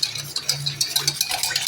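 Sugar being stirred into a salted lemon sherbet in a glass, a spoon clinking and scraping in a quick, repeated rhythm, close and clear with no talking.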